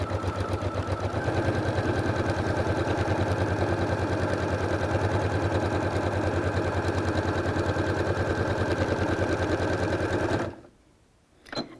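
A sewing machine with a walking foot runs a fast, steady straight stitch for about ten seconds, its even mechanical chatter loud and close before stopping abruptly, followed by a brief quiet handling noise.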